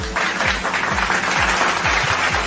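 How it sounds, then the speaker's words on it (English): Audience applause at a talk on youth and nation building, a dense steady crowd of claps with a few heavier thumps, fairly close and without talk. "Once again, please give another round of applause to our Dr. Kittel."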